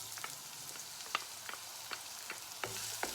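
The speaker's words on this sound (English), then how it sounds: "we're going to put the onions in" Onions sizzle in a hot pan with a teaspoon of oil, a steady faint frying hiss broken by several sharp clicks and scrapes as they are moved about, no voices.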